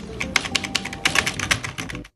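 Fast typing on a Baymax gaming keyboard, a waterproof model without switches, gives a close, dense run of clacking keystrokes for about two seconds before stopping.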